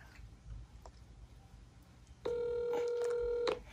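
A phone call ringing out unanswered: a steady electronic ring tone with sustained harmonic pitch starts partway through and holds loud and unbroken for over a second, after faint background noise and no talk.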